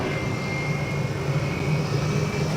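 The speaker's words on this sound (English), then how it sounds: "Jetstar heading off." A Jetstar airliner takes off from runway 14 at Gold Coast Airport, a steady, moderately distant engine roar that holds constant throughout with no talk.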